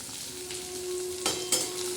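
Guar bean pods cooking with onion and tomatoes in a frying pan, a steady close sizzle with two brief scraping stirs of the spoon, no voices.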